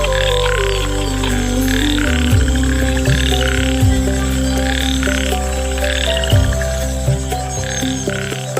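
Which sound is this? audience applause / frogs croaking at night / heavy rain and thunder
frogs croaking at night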